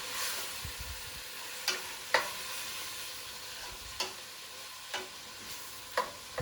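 Tomatoes stirred into a frying eggplant mixture: a continuous close sizzle with a spoon scraping and clacking against the pan at irregular intervals, roughly once a second.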